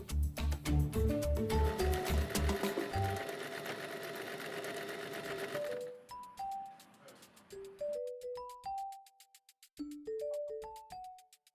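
A sewing machine stitches zigzag rows while a machine cover is made, with a fast, steady mechanical chatter through the first few seconds, then quieter intermittent tones and short whirs.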